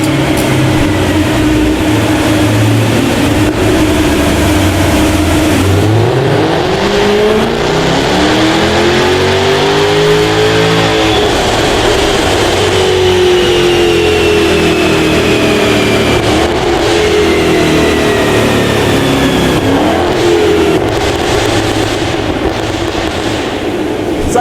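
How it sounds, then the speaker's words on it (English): An upgraded Jaguar F-Type R on a dyno, engine note climbing steadily through the revs, dropping back, then rising again in a long, loud continuous run with exhaust roar. "it's now time to get back on our dyno to find out exactly what it will run after all those upgrades"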